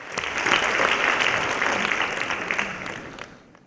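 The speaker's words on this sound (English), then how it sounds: "So I think again a huge round of applause for that." Audience applause at a corporate philanthropy talk, a full round of clapping from a room of people that swells quickly, holds steady, and tapers off at the end.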